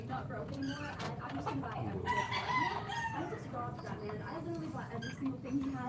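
Several hens cluck and a rooster crows at mid distance, with a person talking over the steady barnyard noise.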